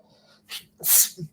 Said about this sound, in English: I sneeze when I get anxious